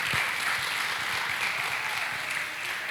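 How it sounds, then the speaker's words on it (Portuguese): Church congregation clapping in applause during a Portuguese-language sermon, a steady, dense wash of hand claps lasting throughout, fairly close and even in loudness. "Aplauda Jesus"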